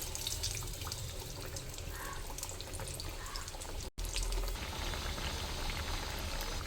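Vada pieces fry in hot oil with a steady, close bubbling sizzle that holds throughout, broken only by one very short gap.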